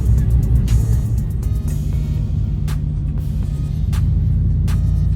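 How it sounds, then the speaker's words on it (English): An old Mustang race car engine rumbles loudly and steadily at close range, a deep low drone holding throughout with slight swells in intensity. "Somebody with an old race car over here, Mustang, got the 4-wheel on the back"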